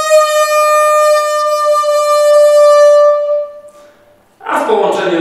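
A bare double reed from an Armenian duduk sounds alone: one loud, steady, buzzy tone with rich overtones, held about four seconds before cutting off, followed by a brief burst of noise.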